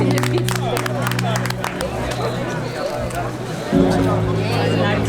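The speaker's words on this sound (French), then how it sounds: "on applaudit les athlètes" A crowd at a triathlon finish, an Ironman 70.3 race, claps and cheers for passing athletes in a continuous hubbub, with voices and music-like tones mixed in, moderately loud and sustained.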